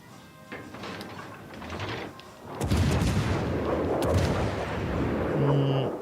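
Heavy naval guns boom from battleships in a World of Warships: Legends sea battle, with a loud, rumbling salvo roaring in after a quieter start and continuing under scattered talk.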